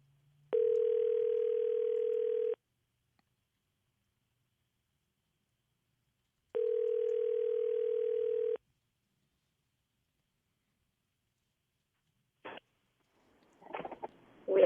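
A telephone call goes out: two long, steady ringback tones about four seconds apart, then silence before faint clicks and brief noise as the line connects.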